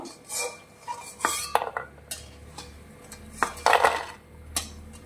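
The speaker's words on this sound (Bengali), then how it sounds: "এবার আমি এগুলো সব তুলে নেব" Fried bori, lentil dumplings, being lifted out of hot oil with a metal spoon, several close clinks and scrapes against the pan over a faint background sizzle.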